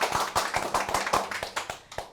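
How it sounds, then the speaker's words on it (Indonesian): A small group claps for a village-owned enterprise (BUMDes) at a Sundanese talk show, with about a dozen sharp, uneven hand claps over two seconds, close and fairly loud. "Tepuk tangan buat BUMDes Kadela."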